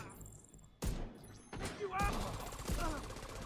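Diamondback lever-action rifle shots in The Division 2, a few sharp cracks scattered through busy game noise with talking over parts of it.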